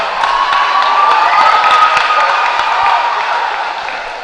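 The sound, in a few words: crowd applauding at pow wow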